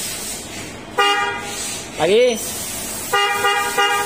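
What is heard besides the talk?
car horn being tested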